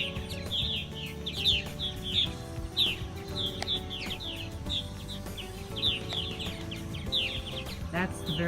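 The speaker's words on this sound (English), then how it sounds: "That's the very recognizable chirp of purple martins." Purple martins chirp in a flock around a lake, their short, bright calls repeating steadily and overlapping at moderate distance above a low background hum.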